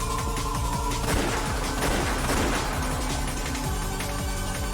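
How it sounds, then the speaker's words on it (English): Sustained gunfire sound effect in the visual novel Umineko When They Cry, a loud, dense volley of overlapping shots with no pauses, set over steady background game music. "They heard gunfire from down the hallway"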